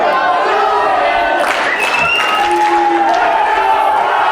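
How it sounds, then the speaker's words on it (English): A dense, loud crowd at a professional wrestling show in Warsaw, Missouri, chanting "Let's Go Brian" as a steady wash of voices, with some cheering and clapping mixed in. "Phillips certainly has the crowd behind him with this Let's Go Brian chant"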